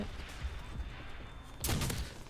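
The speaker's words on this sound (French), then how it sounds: "Ça, c'est un fusil à pompe." A pump-action shotgun in the Call of Duty 5 video game fires one sharp, loud blast near the end, standing out over a steady bed of game background noise.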